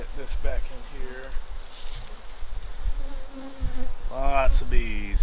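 Bees drone around an open honey bee hive as it is worked, a close, continuous buzzing with rising and falling pitches from individual bees flying past, plus light handling rustles.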